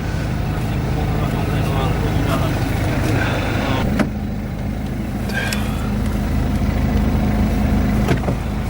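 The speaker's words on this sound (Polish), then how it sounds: "Wycięty tłumik tylny no, hałasuje" A loud, rough engine of a 2014 BMW 320d (F30) diesel with its rear muffler cut out drones continuously close by, its raw exhaust noise filling the scene while a voice speaks at times.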